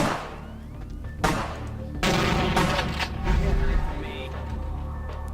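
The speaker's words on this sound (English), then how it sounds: "I didn't mean to shoot him." Gunfire in the vampire action RPG Vampire: The Masquerade – Bloodlines, with sharp loud bursts around one and two seconds followed by booming sustained impacts over a low game rumble; a voice speaks briefly.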